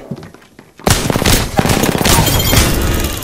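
Dense, rapid video game gunfire bursts out loud after a quiet start, a continuous rattling fusillade of shots that keeps going to the end.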